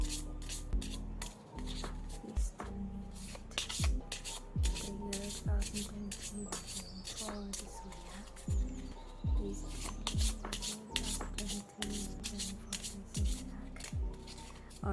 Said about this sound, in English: let's shuffle the card deck.